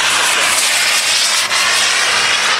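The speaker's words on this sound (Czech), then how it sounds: "teď krásný místní průlet" A model aircraft makes a flypast at a model show, its engine a loud, steady, hissing roar close by that holds for the whole moment without any voices.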